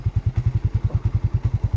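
A motorcycle engine chugs close by in a steady, rapid rhythmic thumping pulse, loud and even throughout, with a sharp knock at the very end.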